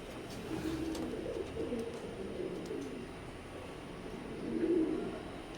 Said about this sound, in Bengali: সাকি ব্লাড লাইনের এক জোড়া কবুতর মাশাল্লাহ